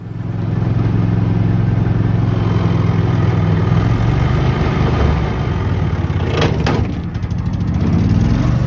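The engine of a small vehicle called Ziptie, a rig with gear-shifting trouble, runs at a loud, steady idle, with a short burst of clatter partway through.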